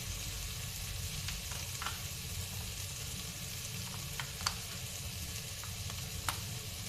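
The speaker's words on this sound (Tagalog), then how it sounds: "Initan natin yung chilyo" Chili sautéing in a pan for fish sarciado gives a continuous close sizzle, broken by occasional light clicks and stirring scrapes, with no talk over it.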